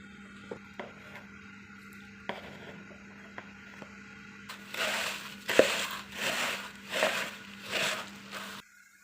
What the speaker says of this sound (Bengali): বাটার এবং ঘি দুটা একসঙ্গে মিশিয়ে দিব।